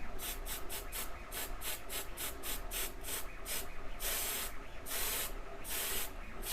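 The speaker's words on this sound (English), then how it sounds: "So I can get it heavily coated with my spray glue" Spray glue hissing from an aerosol can onto handmade miniature diorama trees, a series of short rapid bursts followed by longer continuous sprays, close and fairly quiet.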